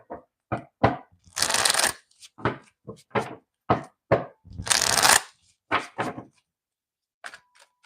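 Tarot cards are shuffled by hand in repeated bursts, with crisp riffling rushes and sharp card snaps and taps between them. Close and fairly loud, with no voices.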